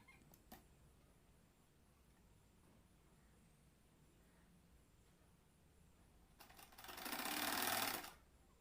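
A sewing machine stitches folded cloth, a quiet low hum for most of the stretch before a loud, fast run of stitching swells up near the end and then stops, close and alone.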